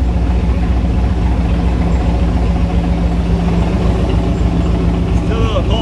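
A car engine runs loudly through a hot exhaust, a deep, steady rumbling drone that holds constant and close from start to finish.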